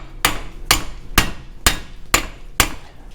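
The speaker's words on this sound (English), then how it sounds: "We'll take a BFH, a big freaking hammer, and tap that sucker through." A mini sledge hammer taps a front axle through the hub of a 2001 Ford F150 4x4 during a suspension rebuild. Six sharp metallic strikes land in a steady rhythm about half a second apart, loud and close, with no talking.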